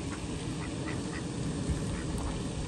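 Ducks quack intermittently amid steady outdoor noise at Lake Carola in Sanford, Florida, as they are fed bread, the calls fairly faint and scattered across a broad wash of ambient sound.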